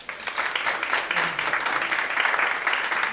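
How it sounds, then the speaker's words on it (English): An audience at an anniversary proclamation ceremony gives a round of applause, a fairly steady moderate clapping that swells and stays even throughout, heard somewhat at a distance. "Please give a round of applause."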